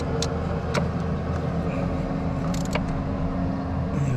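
Steady low rumble of traffic on a bus route, with passing vehicles and engine drone filling the background and a few faint higher clinks on top; no voices.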